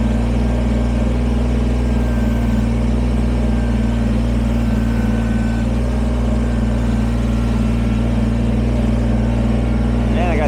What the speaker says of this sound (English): Alright, so now we'll pack it down with the bucket.